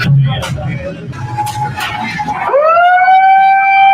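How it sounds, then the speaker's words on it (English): A siren rises and then holds a steady, sustained wail, coming in loudly after a stretch of mixed background noise. "Then, 3 minutes later, the siren."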